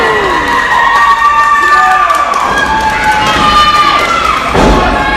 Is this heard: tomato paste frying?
no